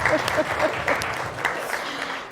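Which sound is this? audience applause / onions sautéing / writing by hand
audience applause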